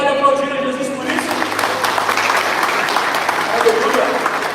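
A church congregation breaks into sustained applause, a dense wash of clapping that swells after a sung or spoken tone fades at the start, steady and fairly loud throughout.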